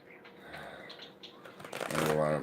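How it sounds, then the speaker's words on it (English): A man shuffles a deck of tarot cards indoors, with soft scattered riffles building into a dense, loud flurry of rapid flapping clicks near the end. "we're going to let Father shuffle a little bit."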